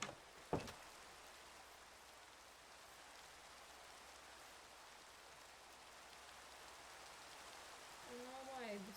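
Rain falling steadily as a soft, faint, even hiss, with a single sharp knock near the start and a brief voice-like sound at the end.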